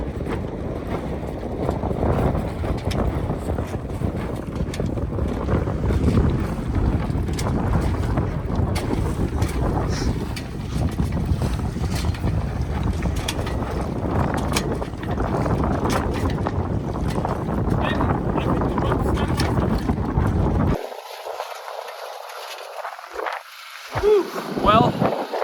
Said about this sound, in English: Well, that was a nice little sail across the channel.